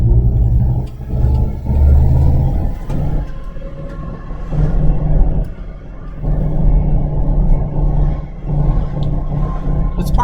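A 1967 Chevrolet K10 4x4 truck on the road, its engine giving a steady low rumble with rising and falling road drone as it drives.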